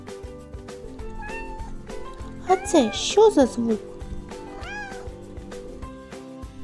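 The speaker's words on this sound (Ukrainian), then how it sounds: "Так, це кошенятко мяукає" A kitten meows several times in a row, close and clear, over soft background music while a voice asks a short question.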